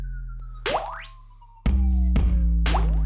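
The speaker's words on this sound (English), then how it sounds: "Oh, the water droplets." Water droplet sound effects in an electronic track play as sharp rising boing-like plucks over booming low bass tones, loud and punchy electronic hits repeating in a rhythmic pattern.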